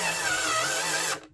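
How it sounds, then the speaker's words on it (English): A small hand drill whines steadily as it drives screws into an LG OLED evo C4 TV stand. The motor runs close and loud for about a second, then stops abruptly. "even on the little hand drill thing, it struggles a little bit"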